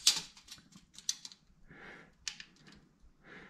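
A metal tape measure is pulled out beside a lathe with direct mount chucks, making a series of quiet scraping clicks and rasping pulls, some short and sharp and some longer and smoother, close by and with no speech.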